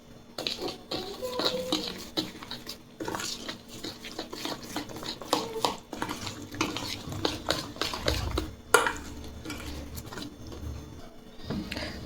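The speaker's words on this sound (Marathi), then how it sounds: "रवा आणि आंब्याचा रस व्यवस्थित मिक्स करून घेतला आहे" Spoon scraping and clinking through a semolina and mango juice mixture in a bowl, a steady run of light scrapes and taps close by, with no talking.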